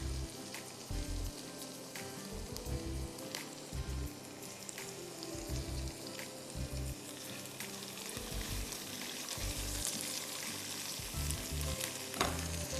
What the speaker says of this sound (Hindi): चने की दाल को फ्राई करिएगा। अच्छा जी, फिर हम इसमें कड़ी पत्ते डालेंगे,